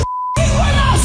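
A short, pure censor beep rings out alone, then cuts straight into loud, shouting voices.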